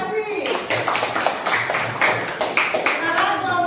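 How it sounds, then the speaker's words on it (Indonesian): Applause from a classroom of students for a group that has just presented, a steady mass of clapping filling the whole moment with children's voices chattering underneath. "Ayo berikan tepuk tangan untuk kelompok evaporasi."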